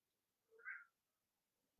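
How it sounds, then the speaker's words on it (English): A cat yowls from another room, one faint, distant drawn-out cry in an otherwise quiet space, followed by a short knock at the very end. "My cat's yelling at me from the other room."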